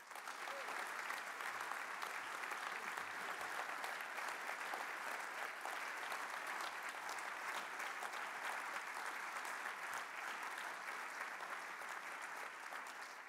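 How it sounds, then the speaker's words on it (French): Congress audience applauding warmly at a Walloon political party's programme congress: sustained, dense applause from a large hall crowd, steady and loud throughout without a break. "que je vous demande d'acclamer chaleureusement"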